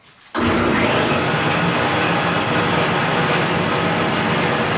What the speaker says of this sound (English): I'm glad we're being smart and cutting stone on the bandsaw.